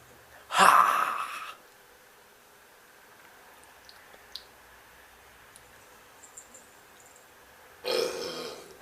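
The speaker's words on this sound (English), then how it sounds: "So he does the after burp." A loud, rough burp after a swallow of Yuengling Light beer, then a long quiet stretch with faint small clicks and a second burst near the end.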